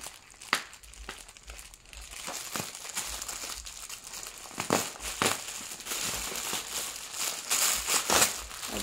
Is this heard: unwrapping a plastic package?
yes